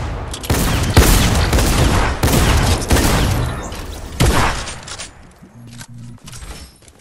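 Gunfire from players fighting in Fortnite, a run of loud sharp shots and volleys that thin out toward the end as a faint tonal game sound comes in.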